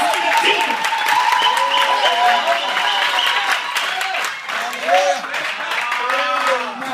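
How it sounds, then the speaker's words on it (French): A church congregation applauds in a dense, continuous wash of clapping that lasts throughout, mixed with many raised voices calling out and singing over it. "Acclamons Jésus."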